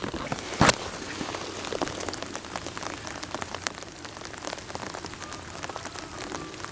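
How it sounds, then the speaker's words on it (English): Steady rain falling at the Opuntia garden farm: a dense, even patter of drops on surfaces, with one sharper close splash near the start. "It's nice steady rain."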